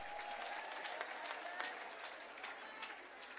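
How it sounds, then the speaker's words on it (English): Sustained audience applause at a long service awards ceremony, a dense steady patter of many hands clapping at even loudness throughout. "giving him a round of applause"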